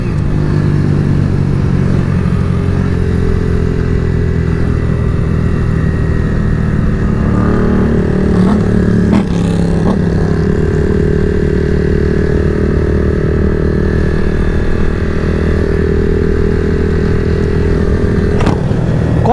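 Several motorcycles revving and accelerating together on a group ride, a loud sustained engine drone with layered rising and falling pitches and throttle blips, no talk over it.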